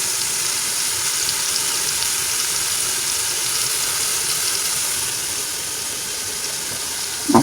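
Ground beef frying in a pan with garlic in a home kitchen, giving a steady, close sizzling hiss that runs unbroken throughout, with a brief louder clatter at the very end.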